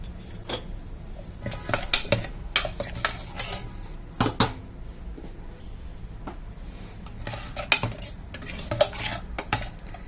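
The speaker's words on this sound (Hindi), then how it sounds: "अब ये मसाले को मैं भूनूंगी" A spice masala being roasted in a pan, with a spoon scraping and clinking against the metal in irregular bursts over a low background hiss, close by, with no talking.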